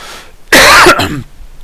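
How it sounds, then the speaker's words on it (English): A single loud, harsh cough close to the listener, with a rougher throaty tail, set against a quiet background. "why am I coughing so much?"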